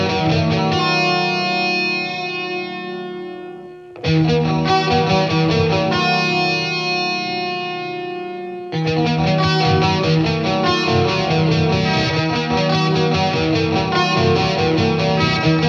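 Electric guitar through a BOSS Katana MK2 amp, playing distorted, chorus-tinged riffs and sustained chords, loud and continuous with a brief gap near the start.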